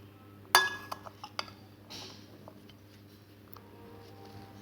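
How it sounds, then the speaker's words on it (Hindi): A spoon clinks against a bowl while chana chaat with red chili is stirred, one sharp metallic strike followed by a few lighter taps and soft scraping, close and fairly quiet. "और अब इसे अच्छे तरीके से मिक्स कर लें।"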